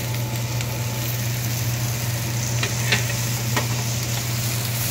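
Fried capsicum and onion get stirred into a sizzling masala for kadai paneer, a constant frying crackle with a few light utensil taps against the pan, under a low steady hum.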